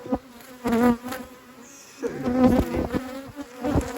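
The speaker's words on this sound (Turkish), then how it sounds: "Orada da bal yok. Ama arı var." Honeybees hum steadily around a hive, their buzzing rising and falling up close with no talking.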